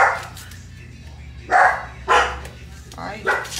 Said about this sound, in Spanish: Deje ver a quién está ladrando.